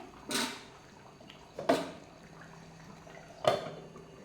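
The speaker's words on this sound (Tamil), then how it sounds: "இன்னும் நல்லா கொதிக்கணும். கொதித்து நல்லா ஆயில் மேலே பிரிஞ்சு வரணும்." Thick curry leaf gravy bubbling in a pan, with three separate soft plops spaced a second or more apart over a low, steady background.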